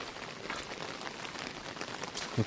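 Heavy monsoon rain pours steadily in Konkan, a dense, even hiss of drops striking surfaces throughout with no voices, and a brief low thump near the very end.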